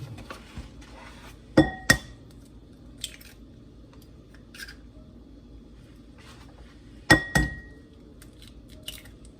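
Two eggs cracked into a bowl: two sharp pairs of taps and clinks against the bowl rim several seconds apart, close and clear, with faint squishy handling sounds between them.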